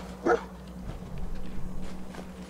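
A dog in the Fallout 4 video game gives a single short, sharp bark near the start, followed by quieter shuffling and faint game ambience.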